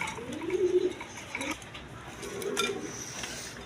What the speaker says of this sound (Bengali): দর্শকবিন্দু এখানে এক পেয়ার গররা কবুতর আছে দেখেন